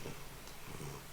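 A pet cat purring very close, a faint low rumbling purr that holds steady in quiet surroundings with no talking.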